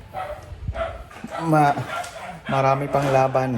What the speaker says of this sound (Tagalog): Pasensya na sa ingay ng aso ng aming neighborhood.